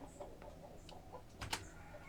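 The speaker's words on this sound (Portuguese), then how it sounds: "O galo velho quase rouco e ainda segue cantando" An old rooster gives a hoarse, choked crow, faint and broken into short rough bursts against a quiet background.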